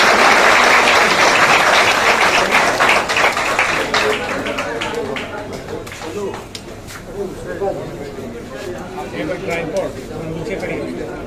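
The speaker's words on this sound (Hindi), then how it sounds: "इनका जोरदार तालियों से अभिनंदन करें" A crowd claps loudly at a BJP political rally, a dense burst of applause that gradually thins and softens, with a voice faintly heard over it.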